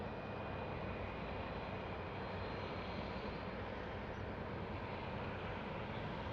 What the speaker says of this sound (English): There goes the C-17.